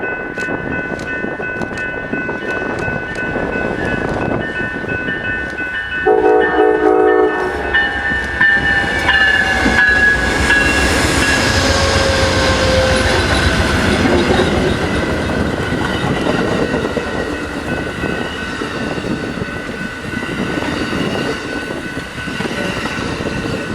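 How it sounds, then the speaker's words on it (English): Amtrak's California Zephyr passenger train slows into a Galesburg, Illinois station in winter, a steady rumble and wheel clatter close by, with horn blasts and squealing brakes over the rolling cars. "Next, Amtrak number 6, the California Zephyr, slows into town for its station stop."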